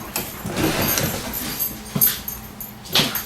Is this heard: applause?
no